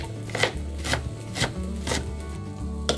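Knife roughly chopping cilantro and onion on a cutting board for pico de gallo, a few uneven close thuds and scrapes spaced across a short stretch with no talking.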